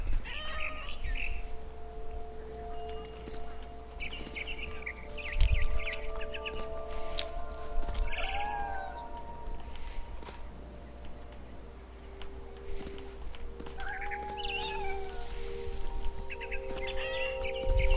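A cat meows several times in short, scattered calls over a steady low hum, with bird chirps and chatter in between, in the video game What Remains of Edith Finch; no one speaks.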